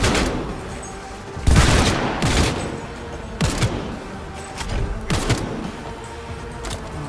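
Rapid in-game gunfire from the video game Cyberpunk 2077, with several loud bursts of shots and impacts spread across the stretch, each dying back into a low background rumble between volleys.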